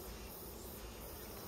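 Honeybees buzzing inside an open beehive, a faint, steady, dense hum that holds evenly throughout with no talking.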